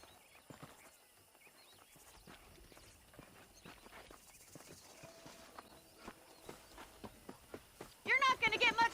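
Horse hooves clip-clop in the Red Dead Redemption western game, soft irregular footfalls heard under speech, with a louder burst of rustling near the end.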